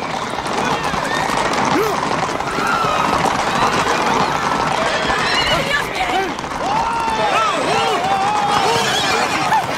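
A horse whinnies and neighs repeatedly against steady busy background noise with movement and hoof clatter, while people talk nearby.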